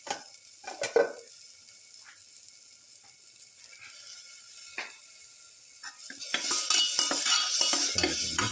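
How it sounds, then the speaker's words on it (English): Ground cashew chili mixture stirred in a pan: scattered clinks and scrapes of a utensil at first, then a rising sizzle and busier stirring in the final seconds, close with no talk. "Put in the ground cashew chili mixture."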